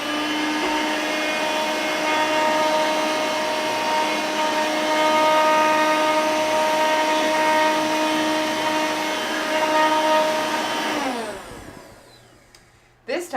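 A Dirt Devil Vibe stick vacuum fitted with its detailing nozzle runs with a steady, loud whine for about eleven seconds, then the motor spins down and falls quiet.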